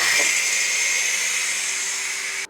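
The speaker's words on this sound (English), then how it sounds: "Now let's do a quick release of this pressure." Steady loud hiss of steam escaping during a quick pressure release on a Ninja Foodi pressure cooker, continuous and close, cutting off abruptly at the end.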